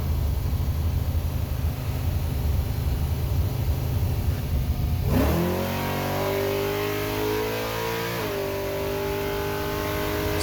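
A 4150-style carburetor running E85 fuel on an engine: steady rough idle, then a sudden throttle stab at about five seconds sends the revs sweeping up loudly before they settle back to a higher, even drone.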